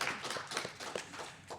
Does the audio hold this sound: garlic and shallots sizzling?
no